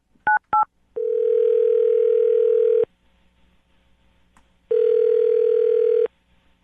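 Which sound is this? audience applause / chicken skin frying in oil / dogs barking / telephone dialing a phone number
telephone dialing a phone number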